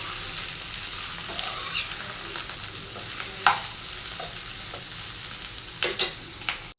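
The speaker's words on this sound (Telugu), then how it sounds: "బీరకాయ అంతా కూడా బాగా కలిసేటట్టు మిక్స్ చేసుకోవాలండి" Ridge gourd sizzles steadily as it fries in oil in a pan, with repeated scraping stir strokes and a few clacks of the spoon against the pan.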